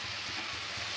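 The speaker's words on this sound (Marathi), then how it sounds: "ही आता फ्राय करायची आपल्याला ह्याच्यामध्ये चांगली।" Chopped onions frying in a pan for a home-made chicken masala, a steady close hiss and sizzle with no pauses, and nobody talking over it.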